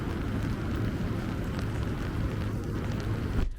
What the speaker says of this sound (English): Because it's pouring.